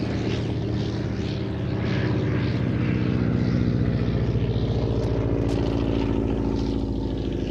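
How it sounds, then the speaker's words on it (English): A Nieuport 17, a WWI fighter scout, flies at the Shuttleworth air show, its propeller engine droning steadily and fairly loud throughout, with the buzz rising slightly toward the end and no talking. "the Newport 17 was still a really fine fighting Scout with good top speed, high rate of climb, excellent agility."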